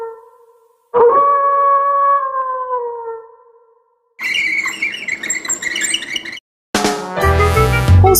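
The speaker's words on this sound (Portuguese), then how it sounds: "Um lobo!" A wolf howls in a long, rising and falling wail, followed by a second burst of yips and howls and then a shorter, noisier howl, each loud and isolated with silent gaps between.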